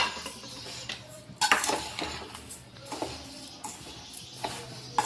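Rava laddu mixture with sugar stirred in a pot, a spoon scraping and clinking against the metal in irregular close strokes, with a few sharper knocks, no voice.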